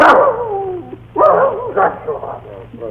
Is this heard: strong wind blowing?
no